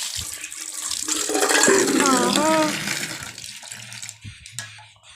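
Water runs and splashes during washing, a loud rushing stream that rises, holds and then tapers off, with a voice speaking over it partway through.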